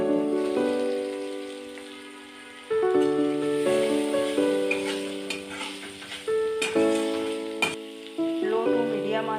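Chopped garlic and soybean chunks fry in a pan for a vegetable soup and are stirred, giving a continuous close sizzle with scraping accents, partly covered by sustained background music.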